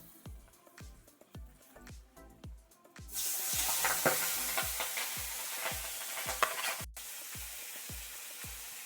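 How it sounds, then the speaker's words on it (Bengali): Rohu fish pieces fry in hot white oil. Steady, regular knocks lead into a loud, continuous sizzle that rises and stays dense with crackles and pops, broken briefly near the end. "এক এক করে মাছগুলো দিয়ে দেব।"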